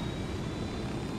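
Steady, even engine drone of a helicopter in flight in the video game Ghost Recon Wildlands, a continuous low roar with no breaks over a short moment.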